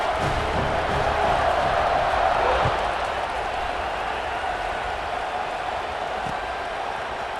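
Large football stadium crowd roaring before a kickoff in a tied third-quarter game, a broad, steady wash of cheering that swells early and then holds at a slightly lower, sustained level.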